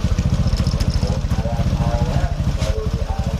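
A Honda Supra X125 motorcycle engine runs at a fast, steady idle with a rapid rhythmic putter, close and loud, with a noisy clutch area and a reported loss of power.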